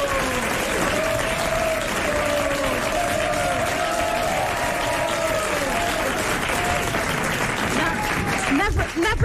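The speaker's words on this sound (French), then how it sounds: "N'applaudissez pas autant quand je donne une bonne réponse" Studio audience at a French radio quiz show bursting into loud, sustained applause, steady clapping throughout with a voice briefly coming in at the very end.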